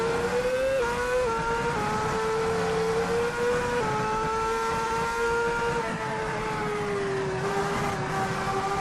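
A VRC F2007 Formula One car in Assetto Corsa screams at full revs near 19,000 RPM, a loud, steady high-pitched engine wail with brief dips at gear changes, dominating throughout with no voices.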